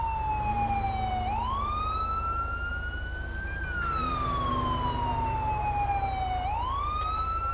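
A police siren wails continuously in Los Santos, cycling through slow rising and falling sweeps over a steady low engine rumble. It is loud and close and plays alone, with no voices.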